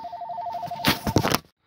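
A telephone rings in a home, a repeating electronic double-tone trill that is loud and close, followed by a brief burst of clattering handling noise before it cuts off.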